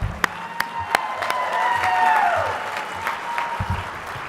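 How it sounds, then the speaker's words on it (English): An audience at an awards dinner applauds steadily for a few seconds, a broad wash of clapping with a few sharp individual claps standing out, moderately loud, with some faint cheering mixed in. "if you could all give a big round of applause"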